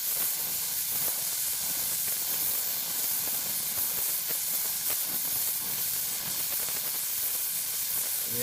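An oxy-acetylene welding torch hisses steadily while welding a puddle along sheet metal, a continuous close, even rushing sound with no talking.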